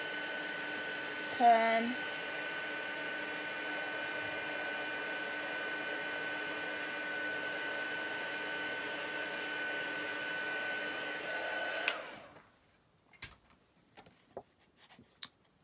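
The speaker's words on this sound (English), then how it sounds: "moving the heat tool as soon as I see the powder" A heat tool blows hot air over embossing powder on a handmade watercolour card, a steady hiss lasting about twelve seconds before it switches off, a brief spoken word early on, then faint taps and handling noises.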